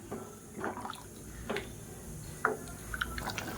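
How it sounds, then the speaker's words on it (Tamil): Water heating in a pot for potato and pea masala rice comes to a boil, giving faint, sparse bubbling pops and drips scattered over a quiet background. "இப்போ தண்ணி நல்லா கொதிக்க ஆரம்பிச்சிருச்சு."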